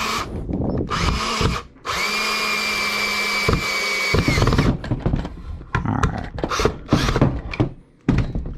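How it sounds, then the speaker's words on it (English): A power drill drives a screw into a wooden outdoor chair, whirring in two loud bursts with a brief pause between, followed by clunks and handling noises. "So now we take our drill"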